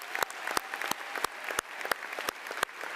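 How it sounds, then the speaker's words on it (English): Sparse, scattered applause from a high school graduation audience, with a handful of distinct sharp claps standing out over a thin, faint patter of clapping. "So give all of yourselves another round of applause."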